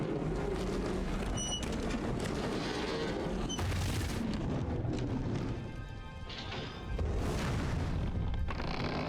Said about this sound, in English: So now we fire the trebuchet at them.